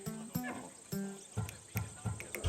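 A Thessalonian horse, bred for courage, in the video game Assassin's Creed Odyssey makes a close run of short snorts and breathy huffs mixed with soft thuds, heard alone.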